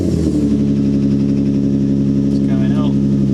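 A Nissan 350z engine runs just after an oil change with a steady, loud, close idle hum. A voice talks over it briefly.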